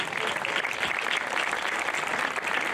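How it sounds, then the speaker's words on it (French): An audience applauds steadily at the Saint-Érige festival in Auron, with dense, continuous clapping that stays loud and even from start to finish. "Elle est là, Françoise, je vous demande de l'applaudir vraiment."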